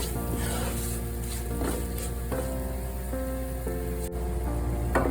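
Spices fry in a pan as the base for a Kochi-style fish pada curry. A steady, close sizzle and crackle runs throughout under a faint tonal hum, with no talking.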